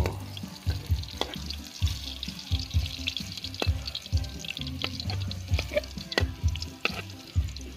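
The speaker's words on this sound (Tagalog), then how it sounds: "tayo magigisa ng bawang" Garlic sautéing in a pan for squid adobo sizzles continuously up close, broken by frequent clicks and scrapes of a utensil stirring against the pan.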